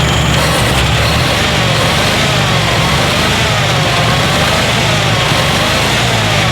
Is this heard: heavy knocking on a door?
no